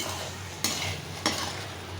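Mushroom biryani masala with cashews sizzles steadily in a pan, with two sharp scrapes of a spoon stirring it, close and soft with no one speaking.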